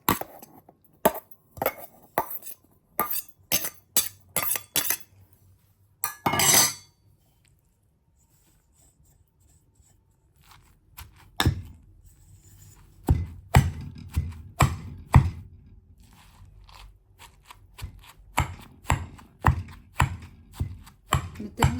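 Coconut sambal is pounded in a mortar, sharp rhythmic thuds in quick bursts, then a long pause before the steady pounding resumes, near and clear with no voices.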